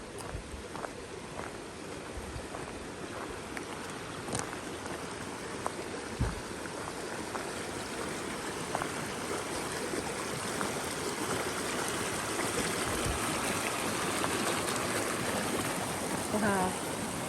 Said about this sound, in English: It's real water.